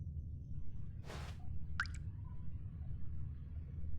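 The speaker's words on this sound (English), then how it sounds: "the pipes, they're starting to rust, which means the water's coming out" Water drips from rusting pipes in the video game The Stanley Parable: a single splash and one distinct drip plop stand out, faint and close, over a steady low hum.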